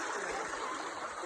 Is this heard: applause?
no